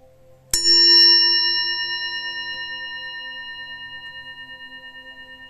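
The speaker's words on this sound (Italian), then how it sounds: "Al suono della campana possiamo riaprire gli occhi." A single meditation bell is struck once to close a session, ringing out clearly and then decaying slowly with a shimmering, pulsing tail in quiet surroundings.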